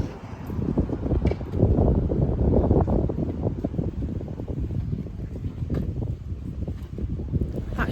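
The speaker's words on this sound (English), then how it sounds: "It's very windy, so I bet you can't hear me." Strong gusty wind buffets the microphone in steady rumbling bursts, loud and close, with no talking.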